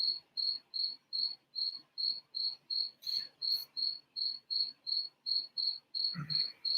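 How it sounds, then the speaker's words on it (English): A single cricket chirps just outside a door in a steady, evenly spaced pulse of loud, shrill trills, close by and dominant, with a brief faint knock or bump near the end and no talking. "that cricket is annoying"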